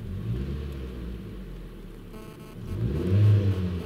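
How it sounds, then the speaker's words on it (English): A car engine rumbles at a low, steady idle, then revs up briefly and moderately when the throttle is pressed before settling again, close by, with no voices. "if I put my foot on the throttle and just give it a bit of gas"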